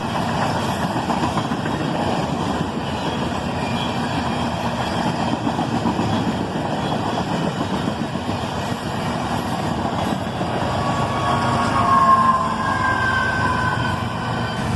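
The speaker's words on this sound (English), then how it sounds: "And there goes the second locomotive, another ES44 ACH." An ES44AC diesel freight locomotive rumbles past close by, its engine a loud, steady drone that swells slightly near the end, with no voices.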